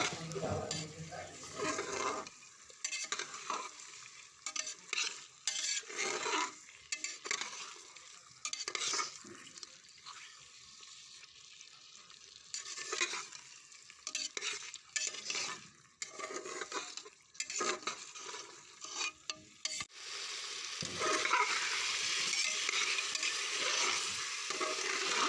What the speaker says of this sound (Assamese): মেৰিনেট কৰি থোৱা মাংস কেইপিচ দি ভালদৰে বিলাহী আৰু পিঁয়াজখিনিৰ লগত ভালদৰে মিলাই ল'ম